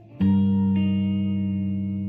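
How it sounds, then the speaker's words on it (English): An electric guitar run through a tape warble pitch-shifting vibrato pedal: a struck chord rings out with a second note added shortly after, sustaining and slowly decaying, alone without talk. "So tape warble. I think it's a pitch shifting vibrato."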